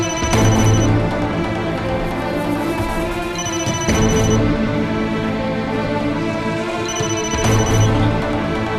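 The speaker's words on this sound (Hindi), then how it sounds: "उसका फोन बज रहा है।" A phone rings loudly in a Turkish drama scene, three repeated bursts of a bright electronic ringtone over a layered musical backing, with no talk.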